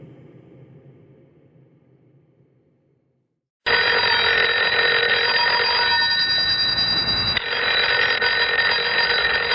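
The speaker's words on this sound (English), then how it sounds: "Oh, the phone." A telephone bell rings loudly and continuously in the middle of the night in a radio drama. A quiet low murmur comes first, then the ringing bursts in and fills the rest of the clip.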